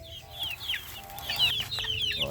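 Backyard chickens clucking while they peck at feed, several birds making repeated soft clucks and short chirpy calls close by, steady and continuous throughout.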